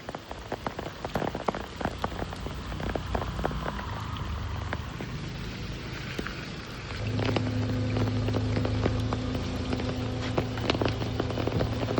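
Steady rain patters on a surface with scattered sharp drips, and a low hum rises partway through under the continuous downpour.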